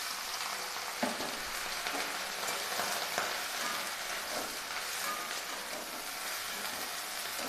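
Chopped snake gourd sizzling and frying steadily in a pan of oil with onion, a continuous close crackle with occasional light stirring scrapes and no talk.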